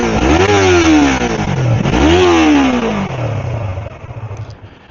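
A Yamaha R3 motorcycle with its stock exhaust is revved twice in quick succession, each blip rising sharply and falling back, close and loud, then settling into a lumpy idle.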